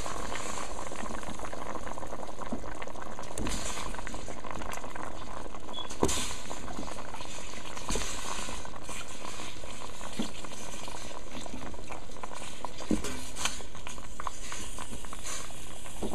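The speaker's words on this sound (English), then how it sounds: "Let it boil." Beef provision soup with sweet potato bubbles at a rolling boil in a pot, a steady close simmering hiss with small pops throughout and no talking.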